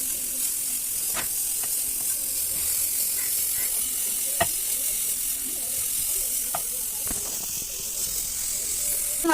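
Grated carrot sizzles steadily in hot ghee in a pan, with a constant hiss of frying and occasional scraping taps as it is stirred.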